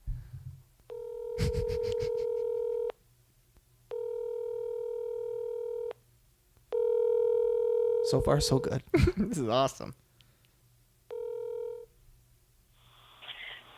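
A phone handset plays a steady ringback tone in four long pulses with pauses while calling someone, a person speaking briefly between them, then a burst of noise follows.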